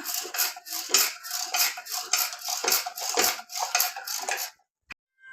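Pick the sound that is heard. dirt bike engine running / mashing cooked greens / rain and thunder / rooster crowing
mashing cooked greens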